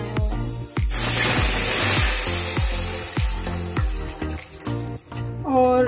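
Potato and onion pakora batter crackles and sizzles as it drops into hot oil, a dense steady frying hiss with clinking utensil sounds on top, close and loud, while a melody plays underneath.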